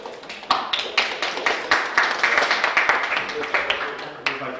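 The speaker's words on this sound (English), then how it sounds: "Let's have a round of applause for all of them as well." An audience applauds the speakers at the grand final of a European debating championship, steady dense clapping filling the room with a few sharper individual claps standing out.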